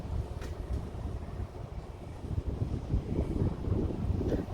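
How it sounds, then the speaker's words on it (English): Steady low rumbling wind buffeting the microphone around a car, continuous and fairly loud, with no voices. "it's getting windy"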